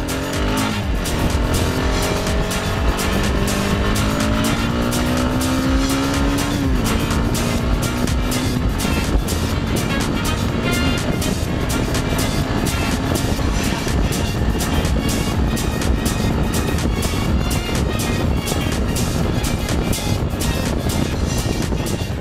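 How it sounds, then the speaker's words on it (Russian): A Kovi FCS250 motorcycle pulls away and accelerates hard, its engine note climbing in pitch, dropping briefly at a gear change, then climbing again in a loud, continuous drone with no talking. "Ну и собственно динамика мотоцикла."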